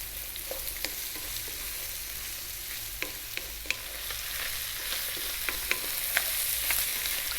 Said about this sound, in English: let's just stir fry it all around